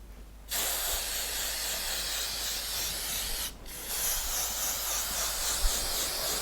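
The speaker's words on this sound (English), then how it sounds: "So I'm just going to lightly spray." Two bursts of close aerosol spray hiss continuously, with a short pause between them, as edible sheen is sprayed onto a cake.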